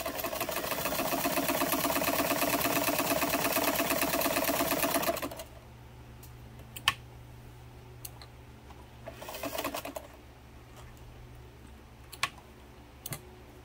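A Singer 237 sewing machine runs a long straight stitch in left needle position with a steady, fast mechanical chatter for about five seconds, then stops, leaving faint clicks and handling sounds.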